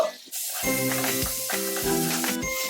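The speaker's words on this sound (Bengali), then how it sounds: "আমি পেঁয়াজটাকে 3 থেকে 4 মিনিট খুব ভালো করে ফ্রাই করে নেব।" Onion paste frying in a hot pan, a steady loud sizzle and hiss that runs continuously, with faint tonal background sounds underneath and no talking.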